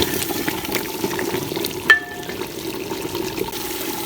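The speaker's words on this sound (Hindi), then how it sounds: "अब हम इसको डाल के तो चिकन को खूब भून लेते हैं।" Chicken being browned in a handi with cumin, cinnamon and dried coriander for achari chicken, sizzling in a steady close frying hiss with light stirring scrapes and one brief clink, no voices.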